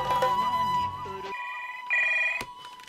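A telephone rings in a film scene, its bright electronic ringtone chirping in bursts over music and background sound, with no talking.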